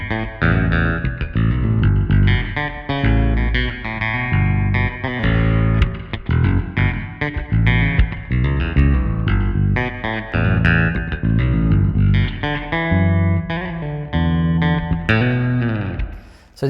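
Bass guitar played through a TONEX pedal on a clean tone with a little reverb, sounding continuous, full-bodied notes and chords in a solo bass arrangement style, close and loud, with no talking.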